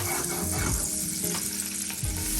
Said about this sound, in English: right here I'm going in with some avocado oil, a little bit of butter